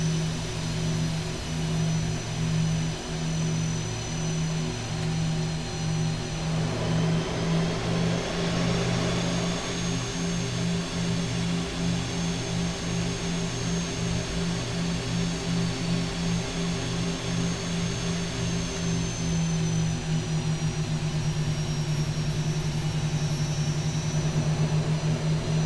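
Boeing 737-900ER jet engines in the X-Plane flight simulator with thrust reversers deployed, a steady loud drone with a tonal hum, swelling then settling as the engines spool down.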